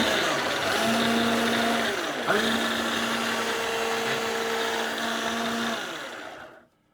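A food processor pulses biscuit dough with lemon zest, the motor whirring loudly for several seconds with a brief stutter partway through, then winding down to silence at the end.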